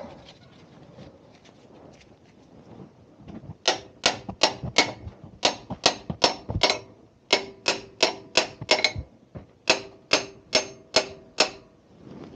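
Sharp hammer strikes ring out in quick bursts of three to five blows, separated by brief pauses, close and loud after a quiet start.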